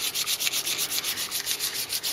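Steel wool or a scourer rubs against a homemade metal stepped milling clamp, giving a steady, rapid back-and-forth scrubbing rasp at close range with no talk.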